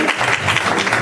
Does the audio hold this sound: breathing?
no